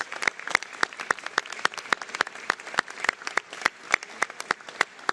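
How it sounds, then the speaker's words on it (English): Applause from an audience honoring the 350 workers of a Canadian roofing company, steady sharp claps ringing out at a live government event, moderately loud with no voices over it. "a big round of applause to you and the 350 workers"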